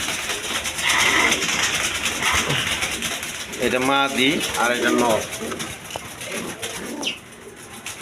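Rajgolla pigeons, a large-sized fancy breed, coo in repeated low throbbing bursts close by, under someone talking and a constant background hiss.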